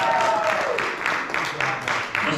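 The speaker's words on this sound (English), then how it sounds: "Give a round of applause for Mr. Patrin Kinslow" Audience applause at a 2022 Easterseals Academy graduation ceremony, a brief burst of steady clapping filling the room, with a tone from a voice or horn briefly audible at the start.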